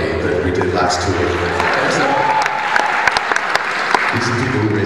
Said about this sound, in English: Proudly clapping.